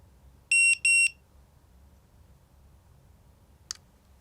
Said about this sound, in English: do not release the red set button until the beeping stops